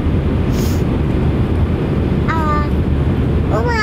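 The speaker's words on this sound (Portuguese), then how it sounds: "Barulho do avião, filha. A gente tá dentro do avião." Inside a passenger airplane cabin, a steady, loud broadband roar fills the space, while a couple of short high-pitched voice sounds rise briefly over it.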